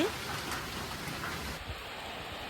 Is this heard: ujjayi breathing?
no